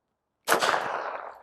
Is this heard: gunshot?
yes